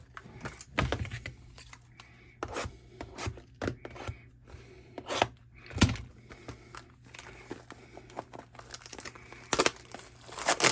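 Uno Elite trading card booster packs being unwrapped by hand, giving close, irregular bursts of crinkling and tearing wrapper foil with brief pauses between packs, no voice.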